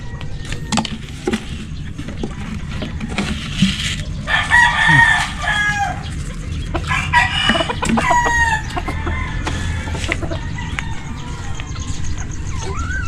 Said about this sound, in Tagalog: nagiingay po siya gusto gusto niya mangitlog